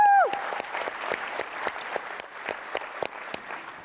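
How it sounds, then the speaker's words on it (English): Conference audience at an industry awards ceremony claps after a sponsor is thanked. Scattered, sharp handclaps come in uneven bursts after a short tone at the start, thinner and quieter than a full ovation. "I would like everybody to give Illuminate a huge round of applause"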